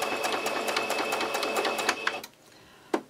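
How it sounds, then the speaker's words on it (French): A sewing machine stitching a patchwork coaster runs in a rapid, steady rhythmic clatter, then stops abruptly, followed by a single sharp click. "Et je couds tout simplement le long,"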